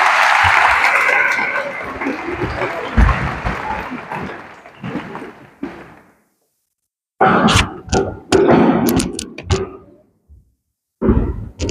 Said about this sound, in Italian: Facciamo un altro applauso a Don Luigi